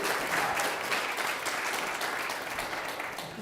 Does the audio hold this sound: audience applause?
yes